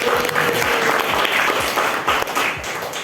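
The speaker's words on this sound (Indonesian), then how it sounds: "itu tepuk tangan dulu untuk kelas 11 MIPA 1" A school class of 11th-grade science students applauds together, a lively burst of many hands clapping at close range with faint murmurs underneath, easing slightly toward the end.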